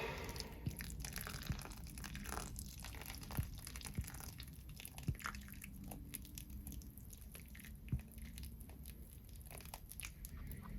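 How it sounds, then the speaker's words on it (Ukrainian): Warm water poured over freshly sown pepper and tomato seedlings in containers, giving a soft continuous trickle and patter with scattered small taps and drips throughout, close by, no talking. "Поливаємо, друзі, теплою водичкою."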